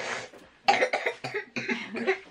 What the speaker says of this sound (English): You've got a horrible cough, haven't you?